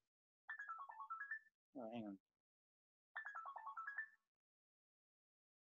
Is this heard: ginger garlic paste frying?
no